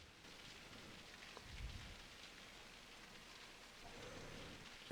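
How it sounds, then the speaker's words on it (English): Stormy rain patters steadily in a continuous hiss, with a soft low rumble of distant thunder rolling briefly through, all fairly quiet and without voices. "super stormy right now."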